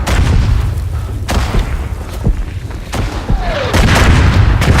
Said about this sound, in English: That mortar would have killed me if I was a bit faster.